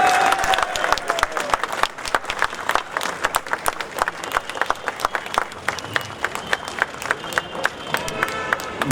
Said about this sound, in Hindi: हम जोरदार तालियों के साथ रोहित साहब का इस्तकबाल करेंगे